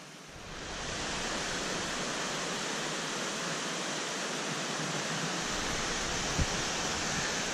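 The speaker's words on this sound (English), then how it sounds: "And we're following this waterfall." A waterfall beside a steep, slippery uphill hiking track on the Overland Track gives a steady, loud, close rushing roar that barely changes.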